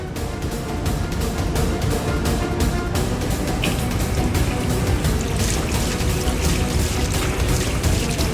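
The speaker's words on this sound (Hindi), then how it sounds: "पहले मुंह में थोड़ा सा पानी मार लेते हैं" Water is splashed onto a face indoors in a steady, continuous rush of pouring and splashing, loud and close, with a scattering of sharper splashes and no talking.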